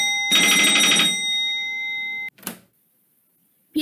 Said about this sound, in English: the store phone rang